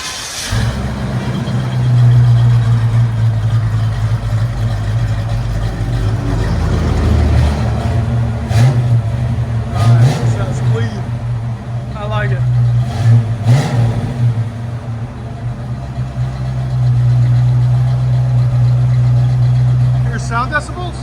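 A 1939 Chevy Master 85 fitted with a 350 V8, true dual exhaust and Cherry Bomb mufflers idles with a loud, lumpy burble and revs up in repeated surges, close by, with people talking over it.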